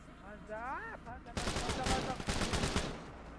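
Rapid video game gunfire erupts after a brief stretch of talk, a loud, dense burst of repeated shots and bangs continuing to the end.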